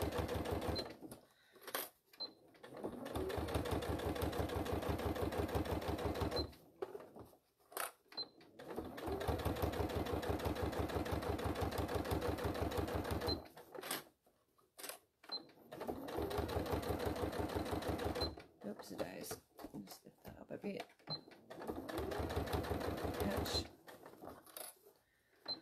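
A sewing machine stitches a faux leather clam shell pouch, running in steady whirring bursts of several seconds with short pauses between them, close and clear.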